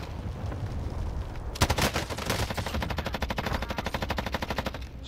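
Automatic rifle fire in Call of Duty: Warzone Plunder mode, a sharp opening blast followed by a steady, rapid stream of close shots lasting several seconds before stopping abruptly.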